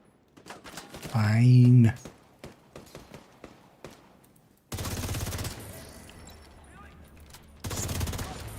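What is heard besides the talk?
gunfire, from a video game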